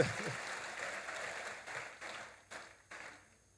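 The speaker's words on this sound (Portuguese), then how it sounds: "salva de palmas para vocês" An audience at a lecture event claps in a soft, sustained round of applause that thins out into a few distinct claps near the end, heard at a distance and fairly quiet.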